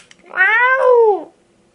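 A voice imitates a cat's howl, one drawn-out rising and falling meow close and loud, lasting about a second.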